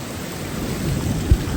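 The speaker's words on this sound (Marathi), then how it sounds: "एवढा जोरात पाऊस आलाय ना, अख्खं भिजलोय आम्ही" Heavy rain pours down steadily and close by as a broadband roar with no voices, broken near the end by a single brief low thump.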